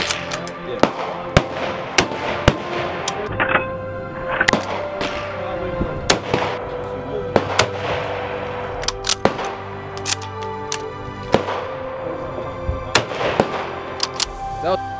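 Mosin Nagant rifle shots ring out in sharp, sudden cracks, about a dozen of them at irregular intervals, each trailing a short echo, amid outdoor ambience with people talking now and then.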